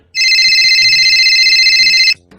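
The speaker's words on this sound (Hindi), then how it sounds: "अरे ये किसका फोन आ रहा है इस लोग का फोन पे?" A mobile phone left behind rings loudly with an electronic tone, one sustained burst of about two seconds that cuts off abruptly, with faint low murmurs underneath.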